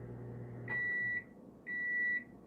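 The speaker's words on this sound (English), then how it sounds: "Alexa, stop microwave." A voice-controlled microwave oven beeps twice, each a sustained electronic tone of about half a second, with a short gap between them and a faint background hum underneath.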